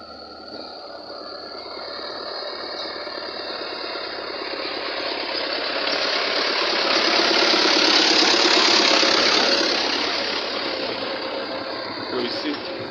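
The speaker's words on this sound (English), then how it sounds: "the village tractor carrying produce." A village tractor engine runs with a steady mid-pitched rumble and mechanical chatter, swelling louder midway as if passing nearby, then easing slightly; people talk over it.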